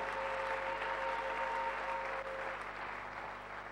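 A church congregation applauds continuously and fairly loudly throughout, a steady wash of clapping filling the space with no voices standing out.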